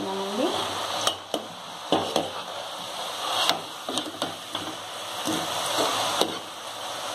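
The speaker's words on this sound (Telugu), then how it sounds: "ఇవి బ్రౌన్ కలర్ లో వచ్చే వరకు వేయించుకున్నాను" Potato and poha fingers fry until brown in hot oil, with a steady sizzle. Sharp scraping clicks and taps from stirring in the pan recur every second or so.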